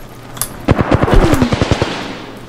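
A rapid burst of automatic gunfire in the video game Apex Legends, about a dozen quick cracks in a row, loud and fairly close, with a short swooping tone in the middle.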